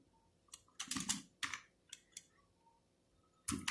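Keys clack on a computer keyboard while an Arduino joystick and servo sketch is entered, in a few short irregular bursts of close clicks with pauses between.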